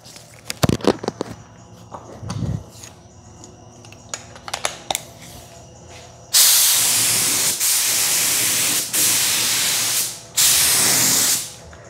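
A spray gun lays a second coat of 2K epoxy primer onto a sheet metal panel. It gives four loud, close bursts of continuous hissing separated by short gaps, after a stretch of scattered clicks and handling noise.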